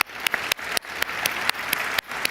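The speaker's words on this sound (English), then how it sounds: "can we have a round of applause for the Slush volunteers" Conference audience at the Slush 2025 founder stage claps for the volunteers, a dense, steady round of applause with sharp accents, loud and sustained without speech.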